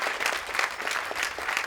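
Audience applause at a groundbreaking ceremony for a housing development, honoring a speaker named Betty Hunter; steady, dense clapping from a crowd throughout, moderately loud with no talking.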